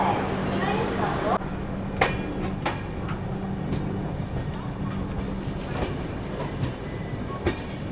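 A Janshatabdi Express train rolls steadily away from Tenali junction, its continuous rumble and low drone joined by faint clacks and squeaks at close range, while a voice speaks over it.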